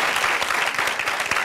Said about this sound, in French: Merci Sandrine Konaté, on va l'applaudir pour cela.